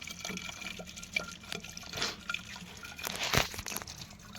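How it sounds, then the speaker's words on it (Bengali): Water from a timed public tap running into a large bottle, a close, steady splashing trickle with intermittent drips and a louder gush near the end, with no voices. "বড় কিনে টাইম কলে জল ভরছে ওটা"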